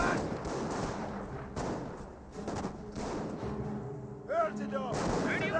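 Officer-called artillery strike in Company of Heroes 1, a run of heavy shell impacts and bursts landing in quick succession with gunfire mixed in, loud and close under a busy battle soundscape.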